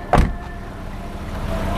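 A used car's door is opened at a showroom in Palembang, making one short, sharp latch click close by, followed by a quiet indoor background hum.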